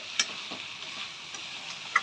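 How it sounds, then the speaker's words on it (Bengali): Chicken with chili and turmeric frying in a pan, a soft steady sizzle running throughout with a few light scraping ticks from stirring, fairly quiet and without talk. "এবার লঙ্কাটা দিয়ে একটু নেড়ে নেবো"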